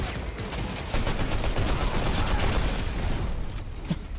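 Gunfire in the video game Fortnite rattles as rapid, dense bursts of shots over a busy, loud game soundscape, with a sharper single report near the end.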